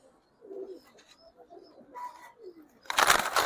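Gorra pigeons coo softly in low, rolling calls, close by in a quiet space. A burst of rustling, fluttering noise near the end may be wings or handling.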